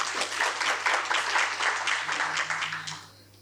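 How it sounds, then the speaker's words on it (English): A conference audience gives a short, lively round of clapping that holds for about three seconds, then quickly fades out at the end. "Can we please just give him one last round of applause?"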